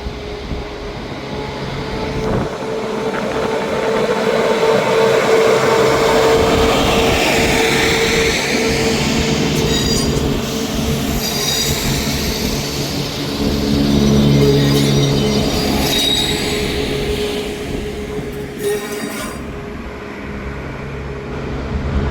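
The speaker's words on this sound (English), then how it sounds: "Departing out over there is also the 12:39 Scotrail service from Edinburgh Waverley to Aberdeen" A ScotRail train pulls out of Dundee station on a service to Aberdeen, a steady diesel rumble and wheel noise that swells and fades across a long stretch, heard from the platform with faint station ambience and no talking.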